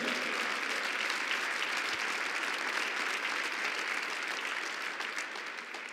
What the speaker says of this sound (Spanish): ¿Cuánto un aplauso al Rey de Reyes?